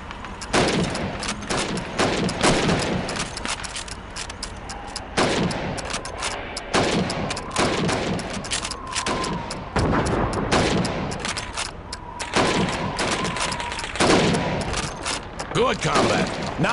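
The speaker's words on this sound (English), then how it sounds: "Now, let's see how well you can do under pressure. You have 15 seconds to shoot the helmets." Rifle fire at helmet targets on a Red Army training range in Call of Duty 2, with rapid, loud shots cracking one after another and bolt or mechanism clatter between them, over a continuous background din.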